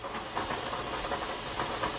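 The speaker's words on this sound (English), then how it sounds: "you can tell by the steam coming out in steady streams" Steam vents in steady streams from a pressure canner coming to a boil while canning chicken stock, a dense continuous hiss with slight pulsing, close and fairly loud, no talk.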